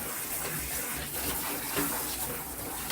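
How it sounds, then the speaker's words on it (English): Running water from a tub faucet pours steadily over a poodle being soaked in a home bath, a continuous loud splashing gush with no talking. "Soak it with water"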